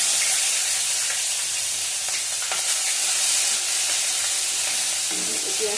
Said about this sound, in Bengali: পেঁয়াজ কাঁচা লঙ্কা দিয়ে দিলাম, পেঁয়াজটা ভেজে নেবো